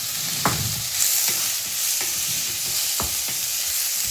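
Onions and chicken sautéing for an egg puff filling give a steady broadband sizzle, with a few sharp scrapes of a spoon stirring in the pan.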